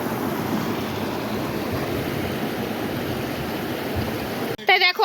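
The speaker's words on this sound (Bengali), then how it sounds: "জলের স্রোতটা দেখো কি কি দারুণ লাগছে" A stream's current rushes steadily in an outdoor spot, giving a close, continuous wash of flowing water with wind buffeting the microphone, which ends abruptly with a short burst of voices.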